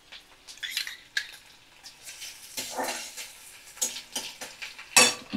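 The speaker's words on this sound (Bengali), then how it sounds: "আর দেখো আমি কুচনো কাঁচা লঙ্কা দিয়ে দিচ্ছি" Chopped green chillies and onion fry in a pan on medium flame, with uneven bursts of sizzling and scraping stir strokes coming and going at close range.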